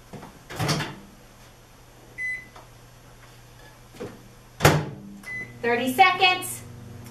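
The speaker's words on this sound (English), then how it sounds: "we're going to put this in the microwave for 30 seconds" A steady low microwave oven hum runs throughout, with a faint beep, a couple of clunks and bumps, and someone briefly speaking near the end.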